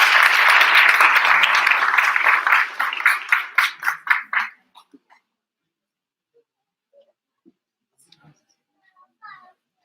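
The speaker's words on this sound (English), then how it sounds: "Let's give a round of applause." Audience applause at a school English public speaking competition, with a loud burst of clapping that thins into a few scattered claps and then dies into near silence with occasional faint knocks.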